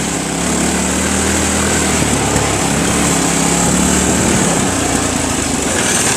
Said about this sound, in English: Comes another steep hill the lawnmower slides down, and she just goes right on down it.